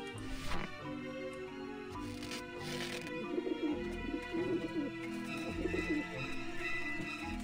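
Pigeons in the video game Grim Fandango coo in repeated soft, throaty bursts over a steady musical background, with no talking.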